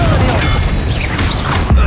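Confringo blasting spell cast in Hogwarts Legacy combat, dense loud booms and crackling blasts layered over a constant battle roar, ending in a heavy low impact.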